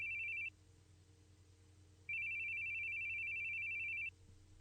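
A telephone rings with a bright electronic trill in two bursts, a short one and then a longer ring of about two seconds, heard clearly over a low steady hum with no talking.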